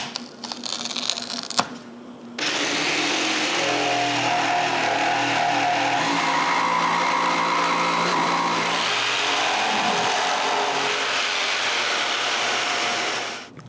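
A jigsaw with felt taped under its base buzzes steadily and loudly for about eleven seconds, cutting a sink hole in a bathroom vanity countertop, after a few brief clatters and scrapes at the start.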